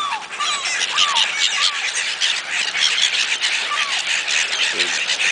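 A large crowd of seagulls squawks and cries all around, with repeated harsh calls over a dense, noisy outdoor background and a faint voice in the mix.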